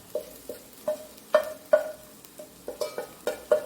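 A spatula scrapes and taps against a pan as chili, coriander, garam masala, turmeric and pepper powders are sautéed in oil for a soya chunks curry, in a steady series of short strokes with a faint sizzle, close and alone.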